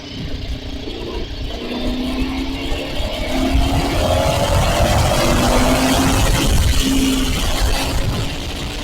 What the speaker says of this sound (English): I think that's a second gear pull right there